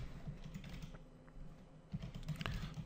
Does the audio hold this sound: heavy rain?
no